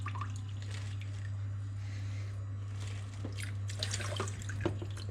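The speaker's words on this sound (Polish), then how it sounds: "przepłuczę sobie te medium wodą z akwarium" Aquarium water rinsing a zeolite filter medium, with continuous trickling, dripping and splashing over a steady low hum, irregular wet squelches growing busier toward the end, no voices.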